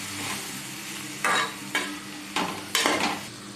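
Okra being stirred with chili powder, turmeric and salt in a pan, giving a steady low sizzle broken by four distinct scraping stirs that come close and fairly loud.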